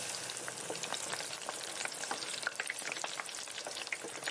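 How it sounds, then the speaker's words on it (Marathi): Ginger garlic paste fries in oil in a kadai for a vegetable stuffing, giving a bright, steady crackling sizzle with dense little pops and no voices. "आता गॅसवर कढई ठेवून त्यात तेल टाकून आलं लसूण पेस्ट टाकायची आहे।"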